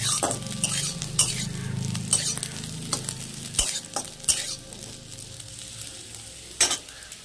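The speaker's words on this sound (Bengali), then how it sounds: "লঙ্কাটা হয়ে এসছে, এইবার আমি কুলগুলো দিয়ে দেবো।" Sour jujube berries frying in hot oil with chilli for a chutney, a sizzle with clattering stirs and sharp spoon knocks against the pan, close and without talk.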